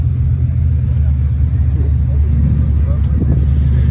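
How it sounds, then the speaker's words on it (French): A Ford Mustang with a 5-litre engine idles in a busy town square, a steady deep low rumble running throughout beneath someone talking. "Mustang. 5 litres, messieurs dames, 5 litres."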